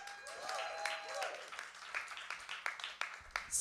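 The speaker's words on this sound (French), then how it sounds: "On peut faire un tonnerre d'applaudissements pour mon prochain invité" A live showbiz talk show audience applauds for the next guest, a soft, fairly distant wash of clapping that swells and fades over a few seconds, with faint voices mixed in.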